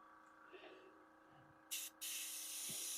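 Airbrush misting metallic paint over the sponsons of a Warhammer Predator tank model: a soft short hiss, then a brief pause, then a sustained close hiss that runs to the end over a faint background hum.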